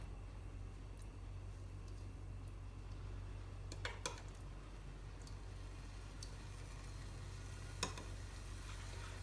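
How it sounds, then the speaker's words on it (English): Meatballs frying in hot oil in a pan, a steady low crackling sizzle throughout with a few sharp ticks and pops near the middle and end, no voices. "Now that I think the oil is hot enough, I'm going to start adding our meatballs."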